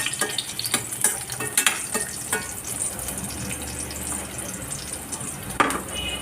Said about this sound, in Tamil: இது எல்லாமே கொஞ்சம் நல்லா வெடிக்கட்டும்.